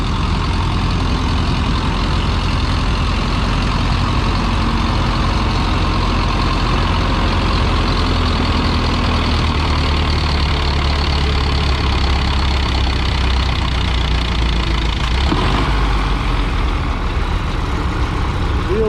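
A Minneapolis-Moline Z tractor pulling a weighted sled at a vintage farm tractor pull, its engine droning loud and steady throughout with a dense low rumble and no clear breaks, heard alone without talk.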